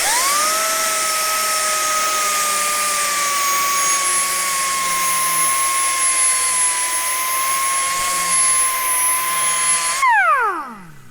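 A TFT milling disc on an angle grinder runs against metal while beveling, a loud steady high-pitched whine with a slight pitch dip at the start, ending as the motor spins down with a falling tone.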